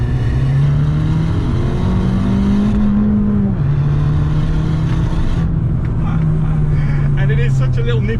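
An Abarth 695 70th Anniversario with a Record Monza exhaust drones loudly and steadily from close by, its engine note rising and settling, while someone talks over it.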